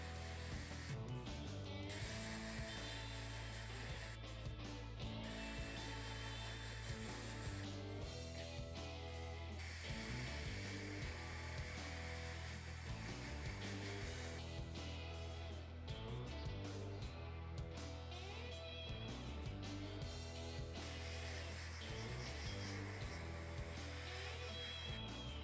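Airbrush spraying thin gold paint, a continuous hiss of air broken by short pauses as the trigger releases and presses again, close and steady throughout.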